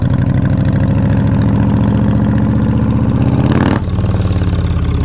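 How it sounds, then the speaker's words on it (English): A custom Yamaha Road Star Warrior XV1700 V-twin motorcycle idles with a deep, loud, rhythmic lumpy throb heard up close, dipping briefly near the end before settling back into its steady beat. "this is how the bike sounds."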